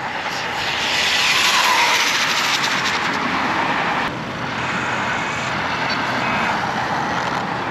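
A Traxxas 4-Tec 3.0 open-wheel RC car makes a speed run, its electric motor giving off a high whine that climbs, stays loud and then eases off partway through.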